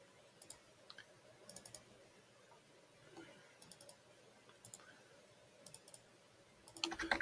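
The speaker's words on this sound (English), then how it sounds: "Double click to edit the nodes." Sharp computer mouse clicks come in quick pairs, quiet and close, scattered across a near-silent room with faint background hiss while nodes are edited in sign-design software.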